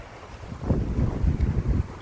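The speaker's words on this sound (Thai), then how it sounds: "ร้อนขนาดนี้แต่ลมแข็งแรงนะ" Strong, hot, dry wind gusts through an orchard garden, roaring steadily against the microphone for about two seconds with a rising, buffeting rumble and no voices.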